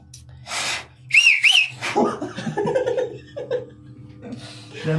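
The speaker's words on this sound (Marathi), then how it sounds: "शिट्टीचे कॉम्पिटिशन" Two short rising whistles sound close up, mixed with breathy laughter and chuckling from people nearby.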